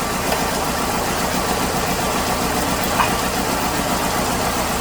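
A 2008 Hyundai 2.0 engine idling roughly with a cylinder 2 misfire, a close, steady low-pitched chugging with an uneven pulsing rhythm and no talk.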